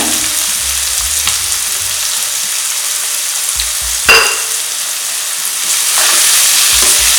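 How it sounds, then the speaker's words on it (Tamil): Onions sautéing with salt in a pan for a green peas masala, a steady dense sizzle throughout with a few brief clinks of a utensil stirring, close and fairly loud, no voices. "வெங்காயம் நல்லா வதங்கணும்"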